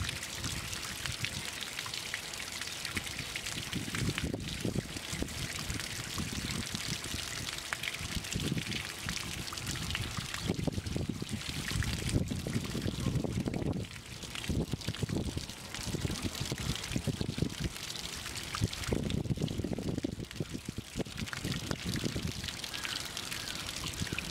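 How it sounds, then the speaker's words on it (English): Water pours and splashes continuously into a small whirlpool turbine, a steady rushing trickle with brief louder surges, close up and without talk. "So let's get some water in there."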